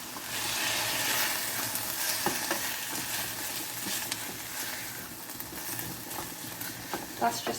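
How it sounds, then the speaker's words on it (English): Balsamic vinegar poured into a hot frying pan of leftover pasty and bake, a continuous close sizzle with light stirring scrapes and occasional pops, steady throughout. "That's just my balsamic vinegar going in."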